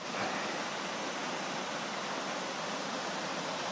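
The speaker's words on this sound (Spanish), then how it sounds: "La gran cascada." Steady, dense roar of a large mountain waterfall heard up close, a continuous broadband rush of falling water with no breaks and no voices.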